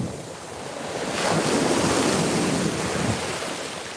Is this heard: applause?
no